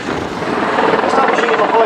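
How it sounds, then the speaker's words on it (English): At the 2017 Cosford airshow, an Apache helicopter hovers high, its loud rotor thrum throbbing steadily beneath a commentator's amplified voice for a couple of seconds. "Jim will now fly a short routine to display the Apache's impressive range and manoeuvrability"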